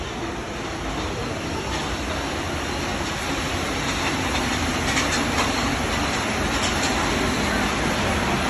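Steady rumble and rattle of a train ride between the Eiffel Tower and the Arc de Triomphe in Paris, continuous and fairly loud throughout with faint clatter and no clear talk.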